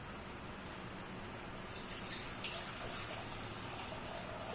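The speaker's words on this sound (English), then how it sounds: "we're going to be pouring 4 cups of water" Water pours into a bowl for soaking sea moss, a steady splashing trickle that runs continuously and gets slightly brighter and more splashy partway through.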